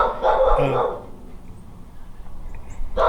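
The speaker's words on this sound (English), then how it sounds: "Dog's barking." A dog barks nearby, a short burst of a few loud yaps at the start that then gives way to quieter outdoor background.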